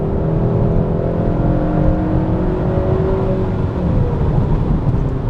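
2021 Kia K5 GT engine note piped into the cabin through the audio system, a steady droning hum with rising tonal whine under acceleration, heard from inside the car without talk.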